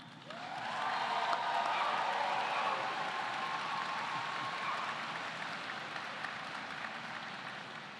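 A large audience at a university commencement ceremony cheers and applauds, the sound swelling quickly and then holding as a broad, steady roar of clapping and shouts that slowly fades.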